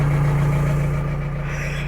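A John Deere 344G payloader's engine idles steadily after a cold start on a frosty day, a loud, close, even low rumble with a strong droning hum and no other sounds.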